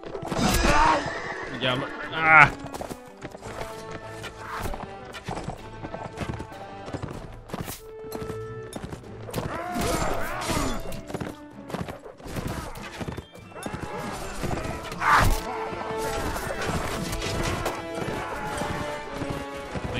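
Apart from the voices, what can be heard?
horses neighing and galloping in the video game Mount & Blade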